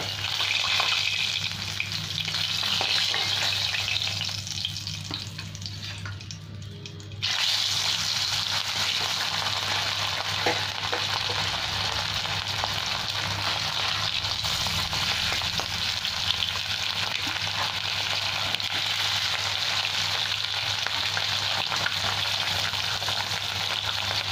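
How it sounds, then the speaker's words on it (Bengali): Fish frying in hot oil in a Bengali home kitchen gives a steady, dense sizzle that runs unbroken, dipping briefly before returning full, with a low hum underneath and no speech. "আরও কটা মাছ আছে, সেটাও ভেজে নেবো এরকম লাল লাল করে"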